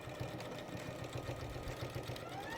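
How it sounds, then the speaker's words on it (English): A sewing machine stitching around the raw edges of fabric, a quiet, steady rapid mechanical whir with regular pulsing rhythm, close and running without talk. "all we're going to do is to just sew around the 3 raw edges here, starting and finishing with a reverse stitch"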